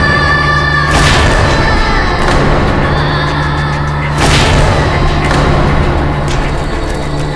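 Cannon fire in a historical Mughal-era TV drama, heavy booms landing around one and four seconds over a constant low rumble and dense battle noise, loud and close throughout with no talk.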